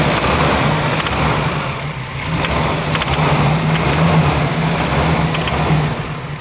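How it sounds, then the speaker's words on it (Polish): An Isuzu car engine runs steadily at idle, a rough low rumble with a faint repetitive ticking knock throughout. "W sumie to jeździ, tylko trochę silnik puka."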